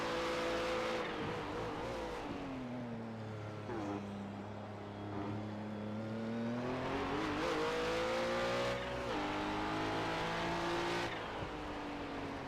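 Race car engines in an iRacing league race roar steadily, manual-transmission cars with pitch rising and falling as they rev through gears, with occasional tire noise; loud and continuous, no talking.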